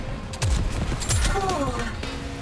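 Gunfire in the NIKKE x NieR Automata game, several loud close shots and impacts in quick succession amid battle effects, with some character voice under them.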